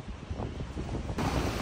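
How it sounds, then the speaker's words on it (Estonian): Large ocean waves and wind on the Spanish coast during a storm make a steady rushing surf with buffeting gusts across the microphone, swelling louder toward the end. "Lained on ka ikkagi päris suured,"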